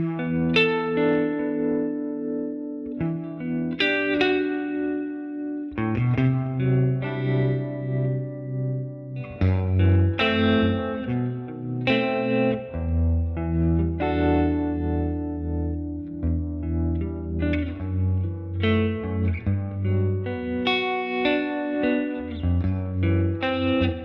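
Electric guitar played through a Helix model of a 1953 Fender 5C3 Tweed amp with spring reverb added, a steady run of picked notes, chords and bass lines ringing with a wet, splashy tail, loud and close with no voices.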